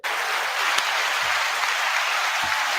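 A dense, steady wash of applause runs from start to end, with no voices heard over it.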